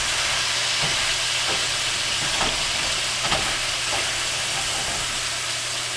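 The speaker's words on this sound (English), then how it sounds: "You want this cabbage to saute up really nice and quick" Shredded cabbage sizzles steadily in a hot pan for a country-style stir fry, with a constant frying hiss and a few scraping stirs of a utensil at irregular moments.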